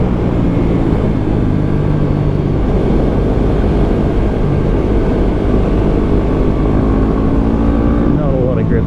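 Engine drone of a Yamaha WR250R dual-sport motorcycle on knobby tyres riding a road with a worn rear tyre, steady and loud throughout with wind noise and a voice talking over it.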